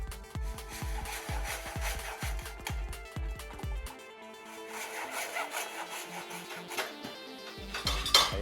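Sawing at the back of a homemade mate cup, a steady rhythmic back-and-forth rasp with wooden, scraping strokes that stop and then resume less regularly, close and fairly quiet.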